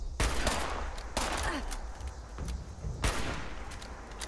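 Gunfire in the video game Fallout 76, with a series of loud, close shots booming at irregular intervals amid continuous echoing combat noise, no voices.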